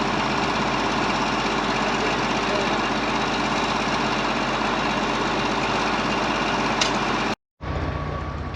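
Tractor engine running near a wheat field at harvest, a loud steady low rumble with knocking vibration that cuts out briefly near the end and resumes.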